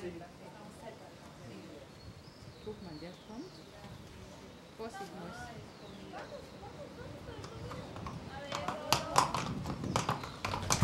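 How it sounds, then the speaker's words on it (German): The hooves of a Paso Fino horse beat out a rapid four-beat staccato gait, faint at first and then growing louder and sharper toward the end, under continuous narration. "Hier sehen wir den klassischen Viertakt-Staccato, der oft auf Turnieren und Shows zur Klangverstärkung auf einem Holzsteg"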